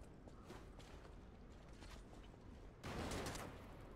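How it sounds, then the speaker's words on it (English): A machine-gun enemy in the dark fantasy action game Lies of P opens fire, a steady rattle of shots that swells into a louder, denser burst near the end. "Oh, it's a machine gun guy."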